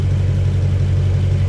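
A Lexus LS400 engine runs steadily nearby with a loud, low, even rumble and no talk. The weird ticking that seems to come from the exhaust is not clearly distinguishable under the drone.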